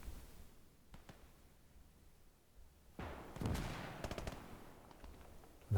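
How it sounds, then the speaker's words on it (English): Distant artillery and gunfire crackle faintly in the WWII Gates of Hell video game in the Hurtgen Forest, with sparse thuds followed by a denser, louder burst of rattling shots midway. "I think that was my artillery"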